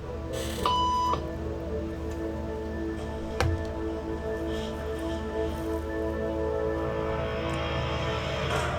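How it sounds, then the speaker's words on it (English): A short electronic beep tone sounds briefly near the start over a murmuring room hum, followed by a sharp click. "to see if this woman would stand up at the sound of this tone"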